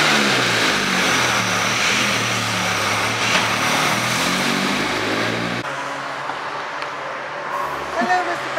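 A Mk2 Cortina race car engine runs at Silverstone with a loud, steady, droning roar that falls noticeably quieter about two-thirds of the way through, with faint voices in the background.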